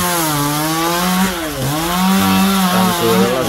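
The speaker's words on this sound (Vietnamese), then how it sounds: "Đang cưa đó là cưa nó nè các bạn." A chainsaw cutting into a huge kapok tree, the engine droning loud and close without pause, its pitch dipping and rising as the blade bites into the wood.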